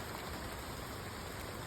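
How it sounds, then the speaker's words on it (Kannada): Light rain falls steadily in the Malnad countryside, a soft, even hiss that stays faint and distant throughout, with no voices. "ಇವಾಗ ಸ್ವಲ್ಪ ಮಳೆ ಕಮ್ಮಿ ಆಯಿತು"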